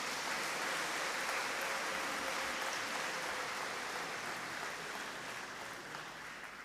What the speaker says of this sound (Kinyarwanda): Ni muntiza amashyi mbashimire cyane.